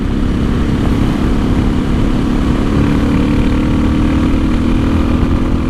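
Suzuki DR650 motorcycle after a gearing ratio change, cruising at highway speed around 65–70 mph, a steady loud engine drone mixed with rushing wind, continuous and unbroken.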